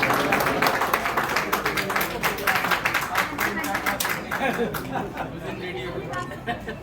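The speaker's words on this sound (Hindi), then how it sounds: "तालियों के साथ स्वागत कीजिएगा" An audience at a state-level media honours ceremony in Nahan, Sirmaur claps to welcome a guest, a dense patter of applause mixed with crowd chatter that fades toward the end.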